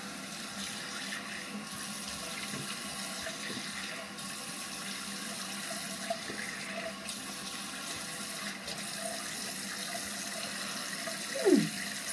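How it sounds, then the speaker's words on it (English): Running water from a sink tap flows steadily while a face is rinsed off, a moderate, close splashing hiss with small shifts in the stream and a brief sound near the end. "And then I go ahead and wash it off."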